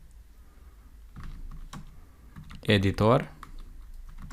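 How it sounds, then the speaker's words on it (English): Light typing of code on a computer keyboard: scattered soft key taps, close and quiet, interrupted briefly by a short spoken word from a man. "Next we need to type, and I will type here val"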